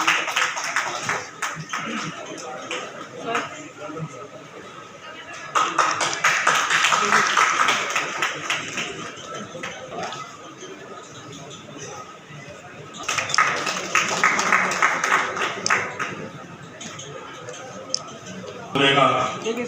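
An audience at an Ambedkar Bar Association event in Agra claps in bursts to welcome guests, the applause rising and fading under a loud announcer's voice over a PA.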